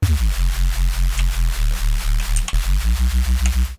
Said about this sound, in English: And this is just a phase oscillation bass.